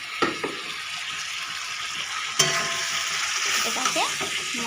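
A bay leaf drops into hot oil in a kadai, giving a steady close sizzle with brief sharp crackles and a clink near the middle.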